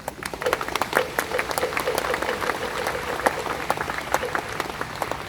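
Applause from a Buddhist audience follows the inaugural speech of the 37th Jogye Order head monk, a long, even spread of hand claps with individual sharp claps standing out, moderately loud and steady.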